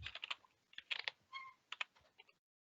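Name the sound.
typing a folder name on a computer keyboard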